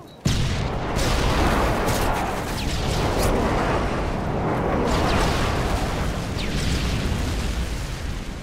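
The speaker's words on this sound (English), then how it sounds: "Friendly airstrike on the way." Airstrike in Modern Warfare 3 on the Bakaara map, heavy booming explosions rolling one into another in a loud, dense, continuous rumble lasting several seconds, with no talk over it.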